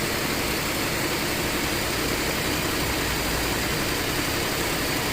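A 2008 Cadillac SRX with the 3.6-liter AWD engine and a misfire fault runs steadily at raised RPM, a loud, constant, even engine drone close by with no talk.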